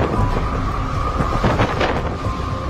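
A typhoon sweeping over Vietnam, with a steady, loud roar of wind and rain that holds without a break from start to finish.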